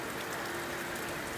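Steady rain falling in an outdoor setting, a dense even hiss with pattering drops throughout, no voices.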